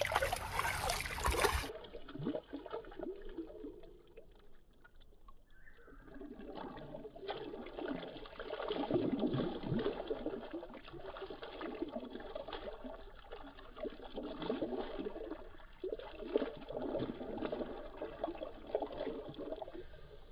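River water during a night-time crossing: a steady, close wash and trickle of shallow flowing water, swelling and rippling in uneven surges, with no talk.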